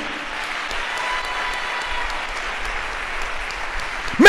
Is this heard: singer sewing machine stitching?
no